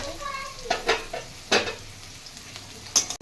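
Soft sizzle of garlic, chopped chili and onion frying in a pan with several sharp stirring scrapes and clinks at irregular intervals, close by.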